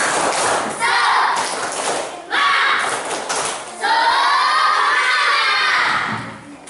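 Schoolchildren in a classroom perform the tepuk semangat clapping chant, shouting in unison in three loud bursts with rhythmic claps, close and energetic.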